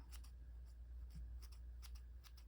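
Scissors trim the hair on a custom model horse: several quick, crisp snips close to the microphone, very quiet, with no talking.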